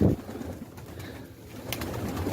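A large male Sabuni Mardin pigeon coos while being fed, a soft low murmuring close by with a brief louder burst at the start over faint background rustle.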